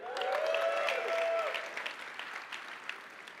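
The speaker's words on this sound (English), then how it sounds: "I think your hands are going to be sore from so much clapping." Keynote audience at a software conference (Atlassian Summit U.S. 2017) breaking into applause, a loud dense burst of clapping that swells then thins into scattered claps, with a brief voice tone early on.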